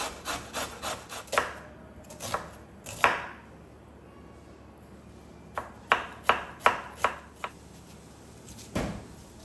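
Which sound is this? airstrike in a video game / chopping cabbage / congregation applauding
chopping cabbage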